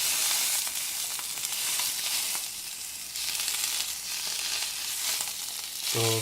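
Food sizzles and crackles loudly over a fire burning too hot, a continuous close frying hiss with no talking.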